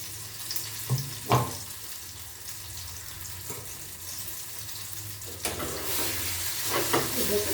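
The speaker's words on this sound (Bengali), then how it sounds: "তেলের মধ্যে নাড়াচাড়া করে খাওয়ার উপযুক্ত হয়ে যাবে" Raw green banana peel paste being stirred and fried in oil in a pan, with a low sizzle broken by scattered scrapes and knocks of the spoon, plus a louder clatter near the end; no one speaks.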